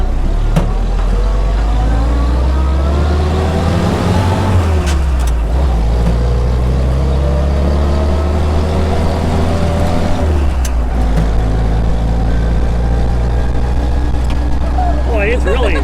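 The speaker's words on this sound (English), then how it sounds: "You hear the mechanical fan and the four-cylinder engine." A 1942 Ford GPW WWII Jeep idles and revs loudly close by, its four-cylinder engine rumbling roughly with a mechanical fan whirring, the engine note rising and falling throughout.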